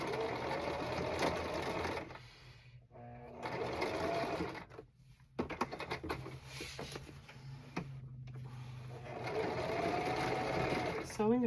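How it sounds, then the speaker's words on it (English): A sewing machine stitches black striped pants in bursts, running for a few seconds, pausing, then starting again, close and fairly loud, with a person talking between and over the runs. "Sewing a curve is like nearly impossible."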